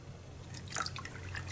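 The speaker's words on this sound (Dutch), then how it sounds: "En dan gaat het water stromen" Water runs from a freshly opened tap on a large barrel in a school laboratory drinking-water setup, heard as a brief, faint trickle with soft dripping over a low background hum.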